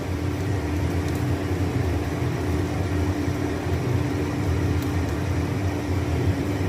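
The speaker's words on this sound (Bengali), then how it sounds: "এবার আমি তেজপাতা, শুকনো লঙ্কা, একটু এলাচ, লবঙ্গ ফোড়ন দেব।" Bay leaf, dried chilli, cardamom and cloves temper in hot oil for a fish curry, giving a steady, close, even sizzling hiss that runs unbroken from start to finish.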